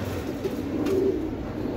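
A young male racing pigeon coos once, faint and short, over a steady low murmur of loft noise.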